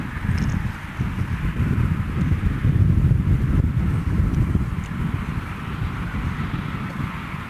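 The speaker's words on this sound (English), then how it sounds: "A little breezy out here." Wind gusting across an outdoor cricket ground during a Master Cricket USA regional match, a continuous low roaring rumble buffeting the microphone, rising slightly mid-way and holding steady throughout, with no voices present.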